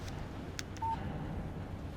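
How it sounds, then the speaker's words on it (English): Phone text message alert in the Alan Wake video game: one short, clean electronic beep over a faint, quiet background. "Text message from Barry"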